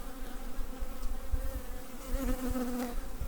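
Close, continuous buzzing of honeybees, a dense droning hum that wavers slightly in pitch, with no voices.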